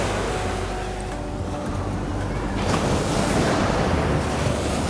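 Ocean surf rolls onto a beach during an outdoor photo shoot, a broad continuous rush of breaking waves mixed with wind noise on the microphone, swelling louder in the second half.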